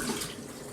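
Hot water poured out of a thermos, a brief steady splashing gush close by that fades slightly, with no voices.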